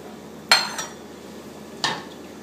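A spoon stirs Czech dill sauce in a pot, giving two distinct metallic scrapes and clinks against the pot, close and moderately loud, with quiet gaps between them.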